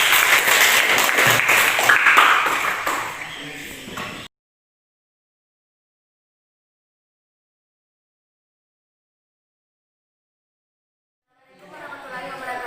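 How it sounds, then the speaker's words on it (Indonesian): Applause for group 6 breaks out in a classroom, a burst of clapping lasting about four seconds before cutting to silence, with voices returning near the end. "Aplaus untuk kelompok 6."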